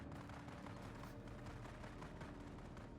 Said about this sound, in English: Looks like a lot of gunfire up there too.